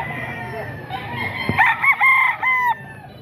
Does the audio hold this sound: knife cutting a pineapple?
no